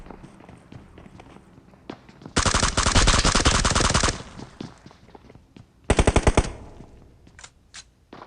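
Rapid automatic gunfire from a PUBG Mobile match comes in two loud bursts, a long one of about two seconds and a shorter one later, amid scattered footsteps and game noise.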